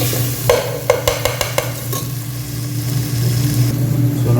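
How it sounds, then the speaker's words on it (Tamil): Ginger garlic paste sautés in hot oil, a steady bright sizzle with clustered clattering stirs near the start, then a continuous frying hiss that swells slightly toward the end. "ஸோ ஒரு 3 நிமிஷம் இந்த ஜிஞ்சர் garlic பேஸ்ட்டு கொஞ்சம் எண்ணெயில் வதங்கட்டும்"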